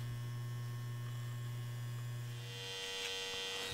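Electric hair clipper running steadily during a short textured clipper cut, a loud constant motor hum that holds for most of the clip before its pitch drops and the tone breaks up near the end.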